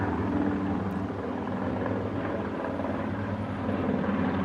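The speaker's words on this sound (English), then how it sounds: "there's a helicopter going overhead" A helicopter passes overhead outdoors, its rotor and engine making a continuous, fairly loud broadband drone that holds steady throughout with no talking.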